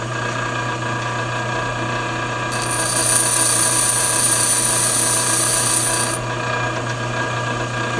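A lathe bit being ground on a bench grinding wheel: the wheel hums steadily throughout, and a harsher, louder grinding rasp rises for a few seconds as the tool is pressed against it, then eases off.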